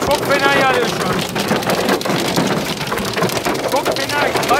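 Heavy rain mixed with hail pounds steadily on a car during a drive near the Bolu province border in Turkey, a dense, loud, continuous drumming that fills the whole stretch without a break.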